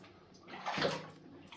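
Water trickles and drips onto a white milky deposit in a coal and fireclay mine, a soft continuous splashing that swells briefly in the middle, close and fairly quiet with no voices.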